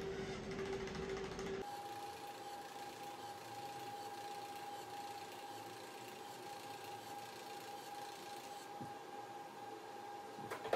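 An Ultraformer III HIFU machine treating the lower stomach gives a faint, steady electronic hum with a sustained tone, broken near the start by a sharp change in the background noise.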